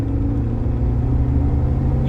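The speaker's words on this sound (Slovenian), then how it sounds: "ker lahko avto tudi mičken bolj pohodim, čutim, koliko je tu v resnici old school turbina" An old-school turbocharged Nissan S-coupe accelerates under throttle, a steady, loud low engine rumble filling the whole stretch with no talk over it.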